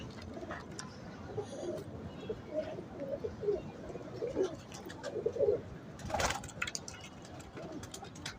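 Teddy pigeons in a breeding setup give soft, repeated low coos in a steady rhythm, fairly close, with a brief rustle partway through.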